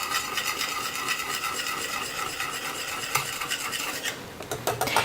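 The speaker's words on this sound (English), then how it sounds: "I'm just going to finish stirring this up." A utensil stirs waffle batter in a bowl with a continuous scraping, swishing sound, close and fairly quiet, ending with a few clinks against the bowl.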